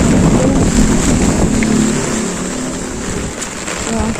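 Typhoon winds in Bicol rush past in a loud, unbroken roar that batters the microphone throughout.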